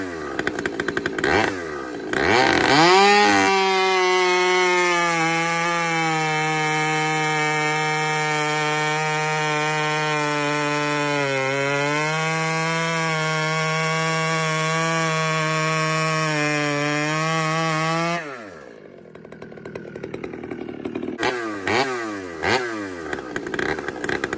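A chainsaw with a stock muffler revs up and holds a loud, steady high-pitched whine for about fifteen seconds while cutting wood, then drops off and idles unevenly near the end.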